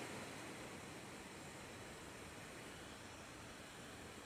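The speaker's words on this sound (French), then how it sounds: "Puis là il y a la cascade." Waterfall (cascade) at a stone wall site, a steady, even rush of falling water heard faintly from a distance, continuous with no breaks and no voices.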